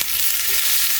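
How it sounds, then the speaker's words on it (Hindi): Dried red chillies and urad dal spluttering in a little hot cooking oil in a small tadka pan, a steady close hiss of frying that fills the whole moment without pause. "तो तड़का देने के लिए एक तड़का पैन में ले रही हूँ थोड़ी सी कुकिंग ऑयल"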